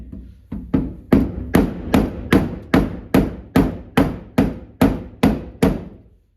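Steady, loud hammer blows hammering out a dent in metal, about a dozen evenly spaced strikes, each ringing briefly before the next.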